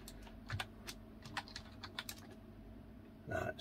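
Typing on a ZX-Uno computer keyboard with an unfamiliar layout, a quiet, close run of uneven clicking keystrokes with short pauses and a louder burst of keys at the end.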